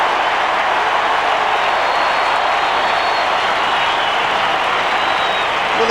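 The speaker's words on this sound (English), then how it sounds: "Well, the crowds have been giving it to Lloydie" Australian football crowd at a 2001 Kangaroos versus Essendon match roaring and applauding in a steady, dense wash of cheering and clapping that fills the stadium without a break.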